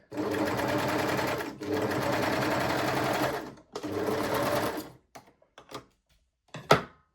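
Sewing machine stitching elastic onto the edge of a reversible bikini bottom: two long steady runs of rapid needle hum, a shorter burst, then scattered short taps and stops, close and loud.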